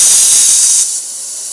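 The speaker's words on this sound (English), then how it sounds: "Pull the trigger and it will start to suck the fluid through." Pneumatic vacuum brake bleeder on a Honda CB 1300 motorcycle, a loud close hiss of air that drops to a softer steady hiss after about a second.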